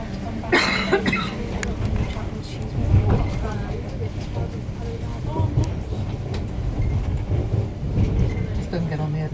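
Interior of a moving passenger train approaching Cheltenham Spa, with a steady low rumble of wheels and carriage throughout, a cough near the start and scattered background voices and movement.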